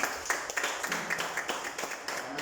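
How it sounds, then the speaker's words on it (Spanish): A church congregation applauding during a Spanish-language service, with brisk, fairly close clapping from a modest group that keeps an uneven rhythm through a short stretch. "Démosle un fuerte aplauso al Señor."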